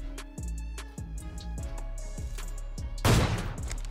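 Gunshots in the video game PUBG Mobile ring out at a steady pace, roughly one every half second, over a tonal game backdrop, ending in a louder, noisier burst near the close.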